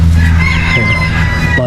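A Brahma chicken with feathered feet, a backyard-raised bird, clucks and crows loudly and close over a steady low hum, a continuous call lasting under two seconds.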